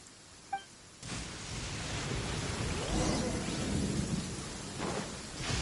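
A thunder and lightning storm in the video game Genshin Impact: a loud, sustained roll of thunder breaks in abruptly and rumbles on with steady rain noise, close and enveloping, with no talking.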